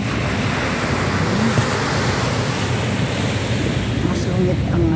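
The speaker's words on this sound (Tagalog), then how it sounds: "Maingay ang hampas ng alon, no? Hampas ng alon. Maingay." Waves crash on a seashore at night in a steady, loud roar of surf with wind buffeting the microphone, continuous throughout with no voices over it.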